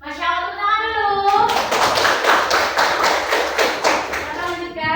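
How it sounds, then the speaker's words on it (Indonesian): A classroom audience bursts into a loud, steady round of applause, dense overlapping hand claps that begin after a spoken line and carry on for several seconds before fading as a voice returns. "Masya Allah, tepuk tangan dulu."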